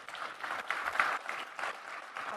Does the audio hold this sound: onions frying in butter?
no